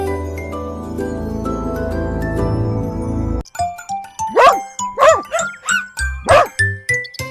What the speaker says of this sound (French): Le chiotin aboyait et remuait la queue de joie.